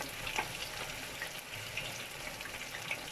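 Chicken pieces coated in crispy fry breading frying in a pan, a steady soft sizzle and crackle that runs unbroken throughout, with no voices.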